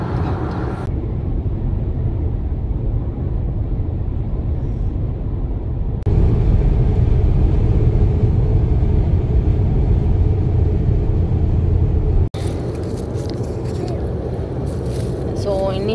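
Car cruising along the highway from Dallas to Houston, a steady broad road rumble and engine drone filling the whole stretch, with a brief loud jolt near the end and talk over it.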